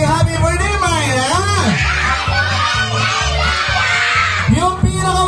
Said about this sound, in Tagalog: sigaw niyo muna si happy birthday, Maya.